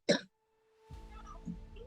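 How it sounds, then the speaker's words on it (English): A single short cough in a classroom, one abrupt burst alone, followed after a pause by a faint voice murmuring quietly in the background. "when you coughed, that made me a little sad"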